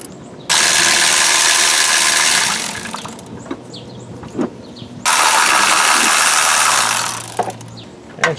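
A ratchet wrench loosens 9/16 bolts on a car engine during a twin turbo install, with two loud bursts of rapid clicking close by and quieter mechanical clinks in between.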